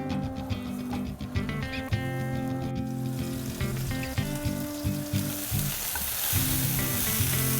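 Oil heats in a pan for plum-teriyaki beef fried rice, making a continuous close sizzle with some metallic clatter early on. The frying swells louder and hissier toward the end, with no talking.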